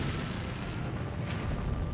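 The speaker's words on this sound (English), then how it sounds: "The ammo and fuel stored in a hangar cause an ear-piercing explosion" A huge ammunition and fuel explosion in a hangar in the video game Hatsumira, a dense, continuous roaring rumble that stays loud throughout with no voices over it.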